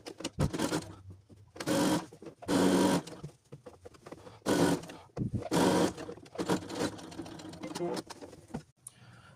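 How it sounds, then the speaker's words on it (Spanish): A sewing machine stitches along the edge of a jacket collar in several bursts of a few seconds each, with a steady whirring rhythm and pauses between runs while a person speaks. "vamos a coser en el borde aquí del cuello para que ya quede cerrado"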